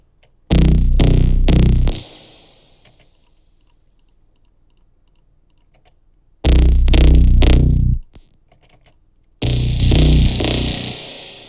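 Three loud bursts of heavily distorted sound, the first trailing off into a long, fading reverb wash before the next blasts in.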